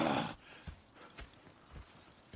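Soft, evenly spaced video-game horse hoofbeats clip-clop along after a brief rustle, faint and steady with no voices.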